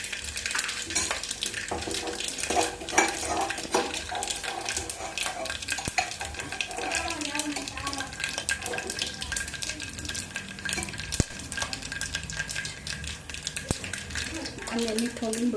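Cumin seeds sizzle in hot oil in a pan with cinnamon and bay leaf, a steady crackling fry with scraping stirs and occasional clinks of a spoon against the pot, fairly close throughout.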